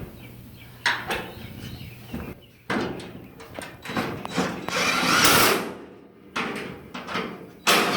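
Power drill driving screws into the rear floor panels of a 1966 Ford Bronco under restoration, short whirring bursts with metallic clunks and pauses between them, close to the microphone.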